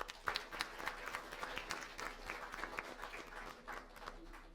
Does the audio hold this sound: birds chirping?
no